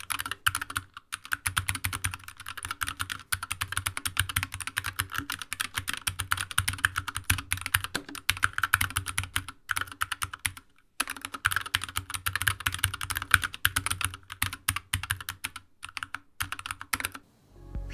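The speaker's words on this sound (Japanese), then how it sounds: "では打鍵音を聞いてみましょう。" Linear optical switches clatter steadily on a SteelSeries Apex 9 Mini keyboard, a close, fast run of light keystrokes with a couple of brief pauses and no talking.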